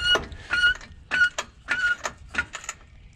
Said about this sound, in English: Now we're gonna jack up the front passenger